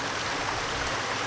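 Water flows steadily near a waterfall in an outdoor landscape, a constant broadband rushing wash heard up close with no breaks.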